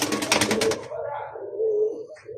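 Pigeons coo softly from a rooftop loft. Low, rounded calls swell and fade over a brief burst of fluttering wingbeats at the start, with no voices.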